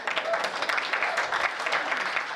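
Audience applause at a Hindi poetry recital (kavi sammelan), a dense, steady wash of many hands clapping at moderate loudness throughout, without talk.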